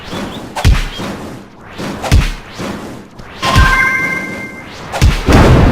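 Several heavy booming thuds from an explosion sequence in the video game Cube World, spaced a second or so apart, with a whooshing burst and bright electronic tones midway.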